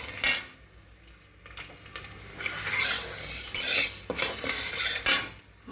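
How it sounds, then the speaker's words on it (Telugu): Split lentils (toor, urad and chana dal) with cumin seeds frying in a pan for curry leaf powder, a spoon repeatedly scraping and stirring against the metal with a steady sizzle, close and alone, louder in bursts. "గోల్డ్ కలర్ వచ్చేలాగా ఫ్రై చేసుకోవాలి."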